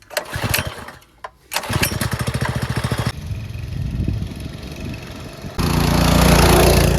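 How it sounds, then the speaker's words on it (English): A Trailmaster minibike's small engine starts and runs up close, firing in a rapid, even putter with a brief stall and restart, then settling into a steady idle and finally rising to a loud, sustained roar. "It started up great and rides well."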